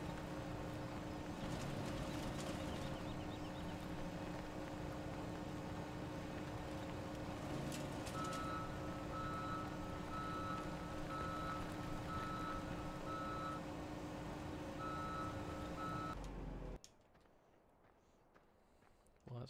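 Truck reversing alarm in a driving video game, a steady run of evenly spaced electronic beeps over a continuous engine drone that suddenly cuts off, leaving near silence.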